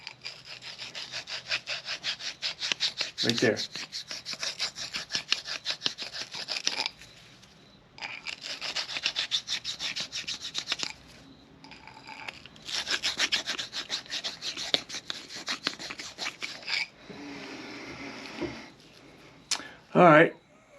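Close, steady rasping and rubbing of metal parts while a 1940 flathead oil pump is rebuilt, in bursts of rapid back-and-forth strokes broken by pauses, with a brief spoken remark between passes.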